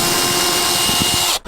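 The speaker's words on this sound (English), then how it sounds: "just so we can drill a hole through and pop the cable in" A power drill whines at high speed as it bores a cable hole in a campervan, with a few rhythmic thuds, then cuts off abruptly.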